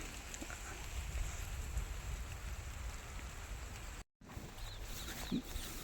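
Light early monsoon rain falls in a village, a faint, even patter of drops with a short gap of silence partway through.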